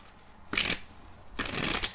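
A deck of tarot cards is shuffled in two quick, crisp riffling bursts, close but fairly soft, with a short pause between them and no voices.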